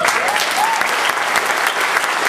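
A stand-up comedy audience claps steadily and loudly for the emcee, a dense unbroken wash of many hands filling the whole moment.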